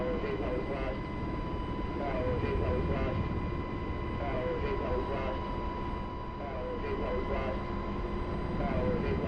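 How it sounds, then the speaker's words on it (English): A helicopter, identified as a Black Hawk, flying nearby in the DCS flight simulator, a steady droning rotor and engine roar with a rhythmic chop and a constant tonal whine, while someone talks over it. "Looks like it might be a helicopter."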